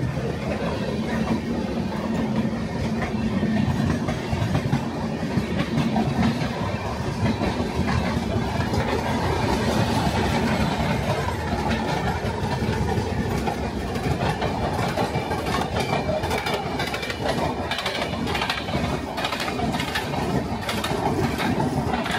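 Mail and express trains roll past on an Indian railway line near Santragachi, a steady loud rumble and rattle of wagons continuing throughout with dense broadband noise and faint rhythmic clatter.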